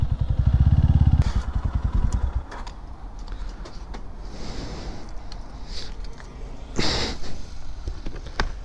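A motorcycle being parked: its engine throbs loudly up close for about two seconds, then drops to a lower idle and cuts out amid clatter and thuds, with a brief louder burst near the end.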